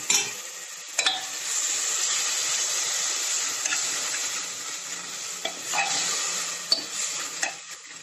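Masala spices fry in oil and are stirred for a chickpea curry, a continuous bright sizzle broken by occasional clinks and scrapes of the spoon against the pan.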